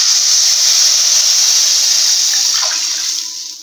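Coconut milk poured into a pan of fried vermicelli gives a loud, steady sizzling hiss that fades slightly toward the end.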